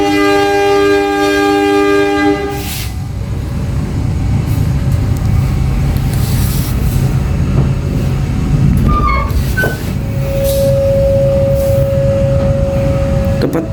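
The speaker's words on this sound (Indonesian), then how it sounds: "kereta api Serayu diberangkatkan dari stasiun Tasikmalaya setelah keberangkatan dari kereta api Malabar" The Serayu passenger train pulls out of Tasikmalaya station at night with a steady low rumble throughout, a sustained tonal horn or whistle at the start and again near the end.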